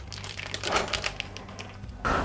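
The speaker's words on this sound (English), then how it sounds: "I'm gonna cut open my little tube of meat here." A knife slices open a plastic tube of ground meat in a home kitchen, giving a brief crinkling, crunching rustle of plastic up close, ending with a slightly louder tear.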